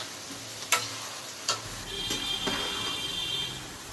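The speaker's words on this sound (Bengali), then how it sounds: "দিদিভাই এদিকে এখনও একটা ফ্রাই করছে" Chilli chicken frying in hot oil for a restaurant-style chilli chicken and fried rice meal, a soft steady sizzle with a few sharp clicks and a brief higher whine midway.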